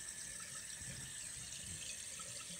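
A toilet tank refills with water as the float rises: a steady, continuous hiss and rush of flowing water, close and fairly quiet, with no talking.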